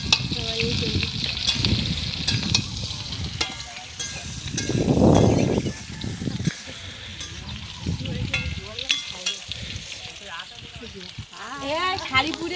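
Potatoes and soybean chunks sizzling and frying in a pan as they are stirred, with bursts of hiss and scraping and a louder sizzle swell midway, while a person talks intermittently over the cooking.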